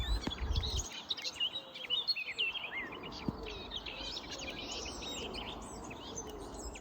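Many birds chirp and sing loudly at night in overlapping high calls, steady and fairly busy throughout, with a low background rumble.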